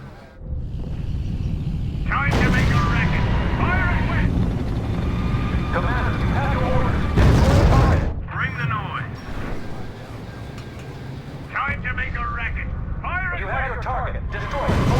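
Artillery fire in the WWII strategy game R.U.S.E., heard as heavy booming bursts and rumbling roars that rise and fall, loud and close, with radio-style voices speaking over them.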